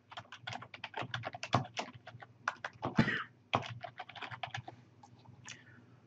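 Rapid, uneven clatter of fingers typing on a computer keyboard, close and crisp, with short pauses between bursts of keystrokes.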